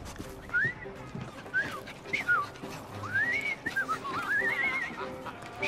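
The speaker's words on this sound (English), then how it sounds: "I've just learned to whistle." A wavering, melodic whistle rises and falls in short phrases over a soft background hum, fairly close and moderately loud, from the video game Assassin's Creed Syndicate.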